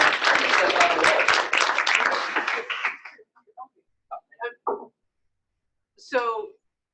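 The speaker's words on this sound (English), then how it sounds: "let's give Deb a big round of applause" An audience at a team meeting bursts into loud applause that lasts about three seconds, then fades to a few scattered claps and voices.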